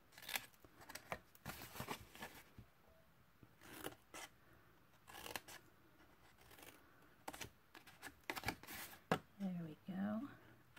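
Scissors snip paper tabs off a handmade gingerbread man cookie box in short, close, intermittent cuts, separated by pauses and someone talking.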